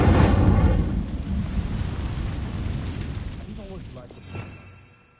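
A fiery Incendio spell bursting from a wand in a Harry Potter video game, a loud roaring whoosh that swells at the start and slowly fades, with a voice speaking briefly near the end.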